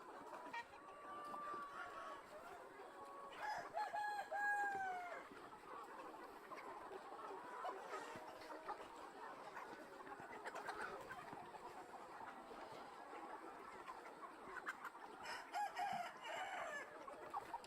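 Chickens clucking and roosters crowing throughout a large chicken farm, layered calls near and far with several loud crows rising above the continuous flock chatter.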